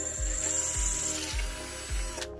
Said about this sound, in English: I'm just gonna drill it out